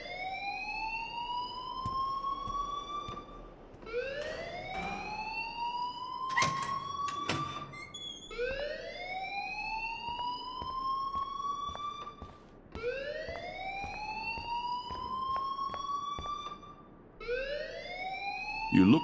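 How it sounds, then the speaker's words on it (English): Repeating rising siren-like fire alarm wails from the video game Life Is Strange, cycling about every four seconds at steady volume, with brief voice sounds and clatter in between. "please turn off that alarm since that's your job"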